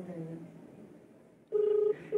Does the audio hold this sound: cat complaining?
no